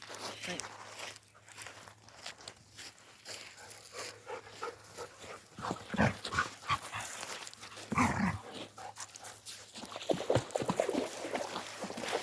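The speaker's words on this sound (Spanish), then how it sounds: "Están locos los perros." Dogs romp and play during a walk outdoors in Frutillar, Chilean Patagonia, with scuffling, panting and a few barks rising in bursts over soft background noise; people talk at times.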